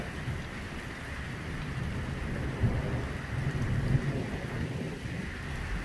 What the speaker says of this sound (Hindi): तो बारिश बहुत तेज़ हो गई है, लेकिन इस साइड वाले पहाड़ बिल्कुल ही नहीं नज़र आ रहे, बहुत तेज़ बारिश।